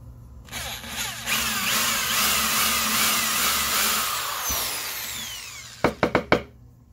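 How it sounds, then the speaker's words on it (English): A power drill bores a small hole in wood for a lamp-base birdbath, whining steadily and loudly for about three seconds before winding down, followed by a few quick sharp knocks near the end. "a drill bit that he's going to use to drill a small hole in the wood"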